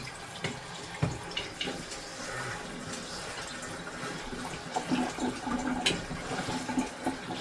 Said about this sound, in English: you want to get a strainer. And you want to wash these off a little bit.